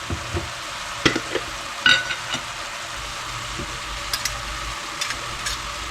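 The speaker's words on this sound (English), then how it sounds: "Here is where we are going to add the rest of the vegetables and the liquids." Vegetables and liquids go into a sizzling pot of beef shank burgundy stew. A constant frying hiss runs underneath, with scattered stirring clatters and splashes near the mic.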